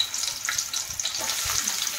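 Onions sizzle in hot oil for a village-style chicken liver curry, a close, steady hiss with soft stirring scrapes and small pops.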